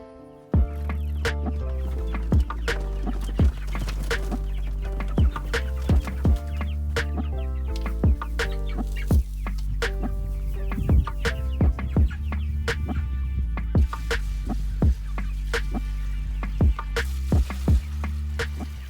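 About five-week-old Cornish Cross chickens outdoors next to their new chicken tractor keep up loud, close, repeated clucking over a low constant hum.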